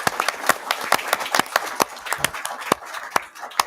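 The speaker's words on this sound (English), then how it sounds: "How about a round of applause for our candidates?" An audience at a candidates' night claps in a short, brisk burst of applause, with dense, uneven hand claps close by and no talk.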